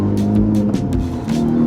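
A Honda Civic Type R with a base tune cruising gently from inside the cabin, its engine holding a steady, moderate drone with a slight rise in pitch and some road rumble.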